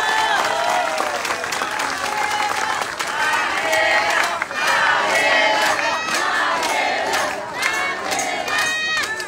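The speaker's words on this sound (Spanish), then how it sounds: "Vamos a darle otro aplauso para que sepa que aquí la queremos." A crowd at an outdoor campaign rally in Tecámac applauds and cheers, with dense, steady clapping and shouts lasting throughout at moderate loudness, some voices calling out over it.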